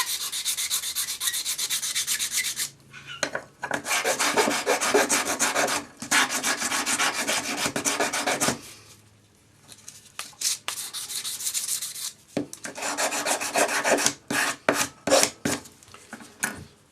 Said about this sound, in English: Then use your sanding stick with 400 grade paper on it.